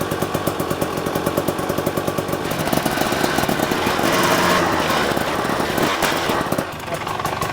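A dirt bike engine idles close by with a rapid, buzzy pulsing, then revs up to a sustained higher roar before dropping back toward idle near the end.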